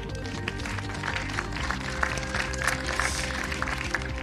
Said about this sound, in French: Vous pouvez tous vous applaudir.